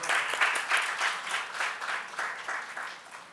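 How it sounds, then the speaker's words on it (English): Audience applause at a keynote session of an inauguration event, steady dense clapping from a large crowd that swells and eases slightly over a few seconds, with no talk over it. "Big round of applause."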